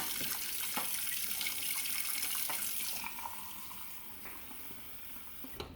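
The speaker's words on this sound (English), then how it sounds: "I'll put a little bit of cold water in this glass." Cold water runs from a kitchen tap into a glass, a steady close hiss that softens halfway as the glass fills, with no talking.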